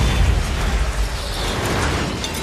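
A cannon blast destroys an alien's body in a film action scene: a dense, sustained roaring wash of explosive noise, loud and continuous with no clear individual hits.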